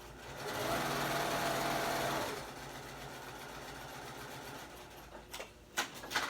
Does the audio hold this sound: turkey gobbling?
no